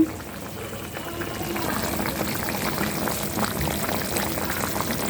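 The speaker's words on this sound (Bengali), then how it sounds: "দুধ জাল দিয়ে রাখছি" Milk simmering in a pot on the stove, a continuous close, moderately quiet bubbling and churning with a steady liquid rush throughout.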